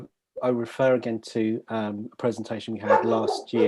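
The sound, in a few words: dog barking in background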